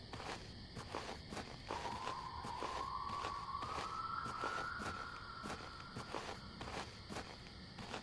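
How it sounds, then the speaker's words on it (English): Footsteps crunch steadily on grass in the indie horror video game Lake Haven, a regular walking rhythm of soft crunches with a steady ambient hum and a faint rising tone behind them. "you're met with nothing but the sound of your own footsteps crunching against the grass"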